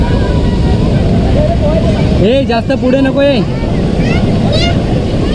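Sea waves wash onto a crowded Konkan beach at Devghali at high tide in the evening, a loud, continuous roar mixed with wind buffeting, while someone speaks over it.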